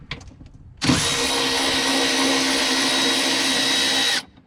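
A power drill or impact driver on a 2022 Ford Maverick undoing silver bolts runs loud and steady for about three seconds after a brief faint lead-in, then stops abruptly.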